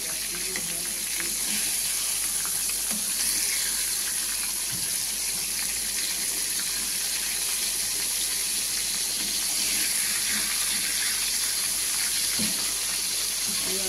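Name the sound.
lotte fish pakoras frying in oil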